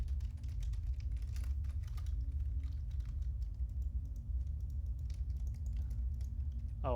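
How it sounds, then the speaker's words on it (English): Many keys on a computer keyboard are pressed rapidly and continuously for several seconds, a dense rattling of key clicks over a low steady hum, no talking. "You can hear me pressing all the keys on my keyboard."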